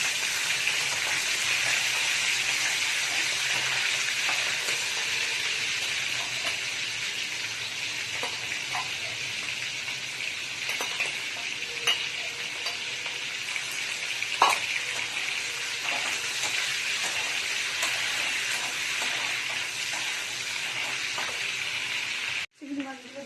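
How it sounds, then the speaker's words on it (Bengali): Shrimp coated in salt and turmeric frying in hot oil in a wok, a steady loud sizzle running throughout with occasional small pops and stirring clicks, no talk over it. "চিংড়ি মাছগুলো ভাজা হয়ে গেছে"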